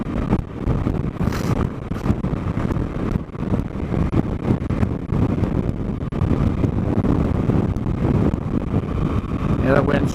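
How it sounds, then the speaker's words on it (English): Steady wind buffeting the microphone throughout a break-in ride on a 2024 Suzuki DL-800 V-Strom motorcycle, a continuous loud low rumble with someone talking over it. "The wind's starting to come in"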